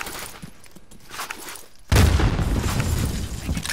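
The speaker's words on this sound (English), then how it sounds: "I'm getting shot" Call of Duty Modern Warfare gunfire opens with faint distant shots, then a sudden loud burst of rapid firing and booming reports that carries on dense and close.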